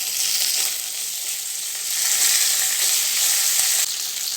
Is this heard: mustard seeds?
yes